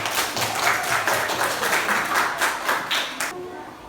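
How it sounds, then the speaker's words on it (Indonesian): A classroom of students claps together for a classmate, a quick run of rhythmic, fairly close handclaps that stops abruptly after about three seconds. "tepuk tangan dulu untuk Marco"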